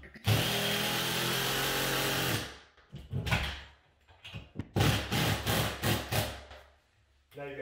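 A power drill drives and tightens bolts while a custom cat wall is mounted: one long steady whir, then a string of short, sharp bursts of the motor, loud and close, with no talk.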